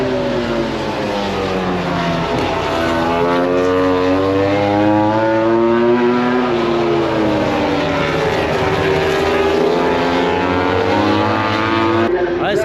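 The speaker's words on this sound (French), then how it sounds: "ce qu'on entend c'est les essais libres catégorie MotoGP" MotoGP motorcycles in free practice at a race track in Indonesia, loud high-revving engines whining past with rising and falling pitch sweeps, overlapping bikes filling the whole stretch.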